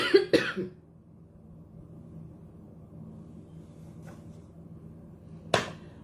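A couple of short coughs at the start, then near silence with faint low hum, a small click, and another sharp cough near the end.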